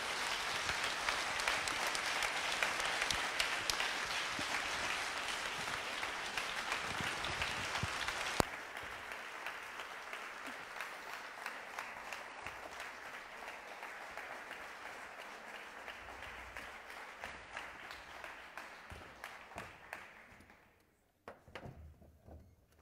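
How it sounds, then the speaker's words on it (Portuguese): Audience applause for the medium Divaldo at a French-language spiritist conference, loud sustained clapping from a large crowd that thins slightly midway and carries on for about twenty seconds before dying out. "Nous l'applaudissons bien fort."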